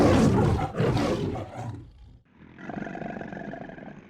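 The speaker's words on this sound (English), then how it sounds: "Lion." A lion lets out a loud, deep roar up close, then the call tails off and gives way to a fainter, sustained rumbling growl, with no voices present.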